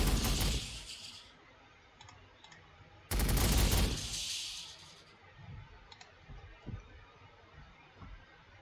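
Two loud bursts of rapid gunfire from the Warhammer 40,000: Sanctus Reach video game, each a dense crackling volley lasting about a second or two. Quieter clicks and thuds follow as the sound fades.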